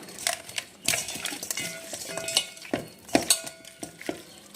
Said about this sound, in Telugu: పసుపు వేసుకొని కలిపి పెట్టుకోవాలి బాగా